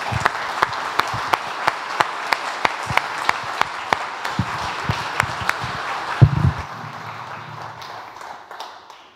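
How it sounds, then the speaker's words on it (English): Audience applause at a church gospel-sharing gathering: a steady crowd clapping with sharp, evenly spaced claps standing out, lasting about six seconds before fading into quieter room noise. "Would y'all give her a round of applause?"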